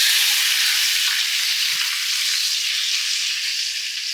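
Halved grape tomatoes sizzle in a hot pan, a steady, even hiss of frying that stays close and constant, with a faint knock of a utensil partway through.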